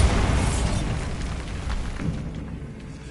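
Bombarda blasting spell in Hogwarts Legacy inside a decayed catacomb: a deep rumbling explosion that starts loud and slowly fades with crumbling debris.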